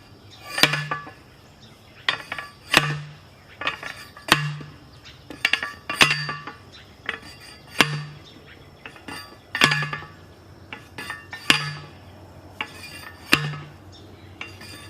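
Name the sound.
chopping spade digging out a pawpaw root sucker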